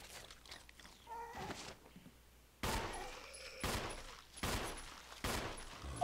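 Bursts of gunfire in Resident Evil Remastered, several loud broadband shots around the midpoint and end, set against a quieter stretch of faint game sounds before them.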